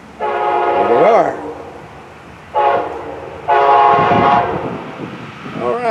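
A southbound freight train passes with its horn blaring in several long, loud blasts, one short and the others sustained, with wheels rumbling beneath.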